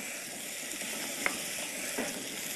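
Beef cubes browning in a hot pan, a soft continuous sizzle with a couple of brief clicks or taps near the surface.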